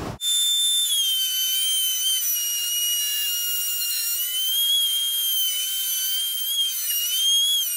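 Power tool whines steadily while cutting out a Les Paul guitar body, a continuous high, slightly wavering tone that starts abruptly and runs alone at close range.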